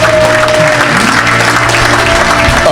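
A church congregation applauds loudly and continuously, a dense wash of clapping filling the room for the whole stretch.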